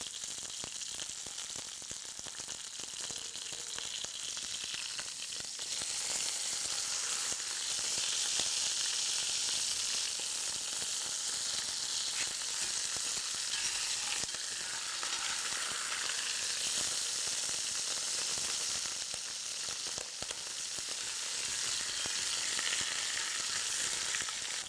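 Meat browning in a large pot gives off a continuous, loud, bright sizzle and crackle that hisses steadily throughout with occasional soft stirring scrapes.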